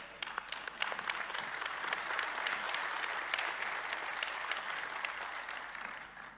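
Sustained applause from a panel discussion audience, dense steady clapping from many hands that holds at an even level throughout, then eases slightly at the end.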